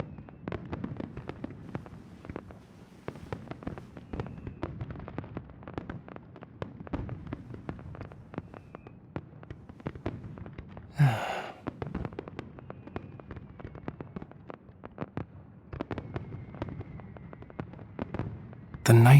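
Fireworks in the game Love and Deepspace crackle and pop in a dense, fairly soft barrage, a steady scatter of sharp bursts with a brief whistling rise midway and a louder bang at the end.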